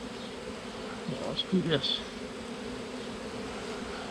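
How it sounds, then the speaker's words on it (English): Bees buzzing at a bee tree during a hive removal, a steady hum throughout with a louder swell as bees fly close, while someone speaks briefly. "A good bit of bees."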